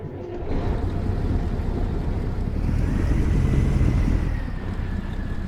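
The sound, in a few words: truck engine malfunctioning, from the video game American Truck Simulator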